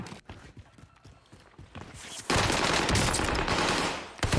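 Rapid automatic fire from an Owen gun in the Warzone video game, preceded by lighter clicks and footsteps, then a dense, loud sustained burst lasting about two seconds before tapering off.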